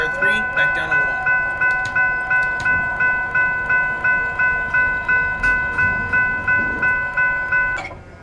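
Railroad crossing bell in an elevator testing video game, a steady metallic ding repeating about twice a second with sustained tonal warning notes, ringing loud and continuous until it cuts off near the end.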